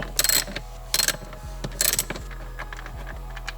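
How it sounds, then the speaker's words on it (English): A ratchet works T25 star bolts on a Mercedes-Benz, with three short bursts of rapid clicking pawl action close up, separated by gaps with a low steady hum underneath. "Once I break it loose, I remove the ratchet."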